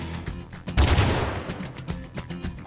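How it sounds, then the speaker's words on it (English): Enemies open fire on the player in the video game ARCO, a burst of rapid gunshots with a heavier blast in the middle, close and punchy over a low game backdrop, no talking. "So these guys are gonna fire at me."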